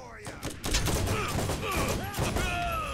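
Rapid gunfire in the shooter game Borderlands, a dense continuous burst of shots mixed with game sound effects and a talking voice throughout.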